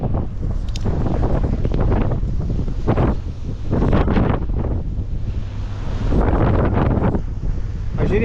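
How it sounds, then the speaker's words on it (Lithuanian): Strong wind at sea aboard a ferry buffets the microphone in loud, gusting roars over a low wash of waves and a boat rumble. "Vėjas koks."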